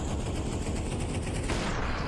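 Rapid automatic gunfire in the video game Counter-Strike 2 during a professional esports match, a dense continuous rattle of shots filling the whole moment, loud and close with no talk over it.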